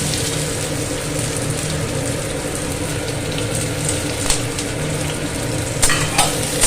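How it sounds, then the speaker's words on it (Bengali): Onions frying in a pan until browned, a steady dense sizzle with faint stirring scrapes and a couple of brief clinks near the end, no voices. "পেঁয়াজটাও ভেজে নেব লাল করে"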